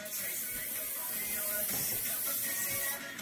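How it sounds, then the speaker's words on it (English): Olive oil sprayed from a spray can in a kitchen gives a soft, continuous hiss lasting a few seconds, fairly quiet and close, with no talking over it. "I'm gonna get olive oil, spray a little coat on the front"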